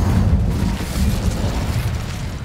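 The Incendio fire spell blasts in the video game Hogwarts Legacy as a loud, rumbling low roar of flame that holds for the whole moment, with no talk over it.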